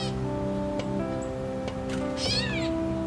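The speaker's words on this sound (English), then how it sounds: "there's a catbird cawing" A gray catbird gives nasal, mewing calls much like a cat's meow, a few drawn-out slurred notes close by over a steady hum of background tones.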